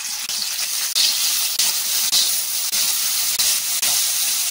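Dried fish frying in hot oil gives a steady, bright hiss close by, broken every half second or so by brief dips and fresh surges of spattering.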